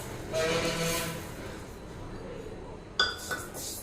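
Sesame seeds tipped into a kadai for roasting: a soft pouring rustle at the start, then a couple of sharp clinks of a cup or utensil against the pan near the end.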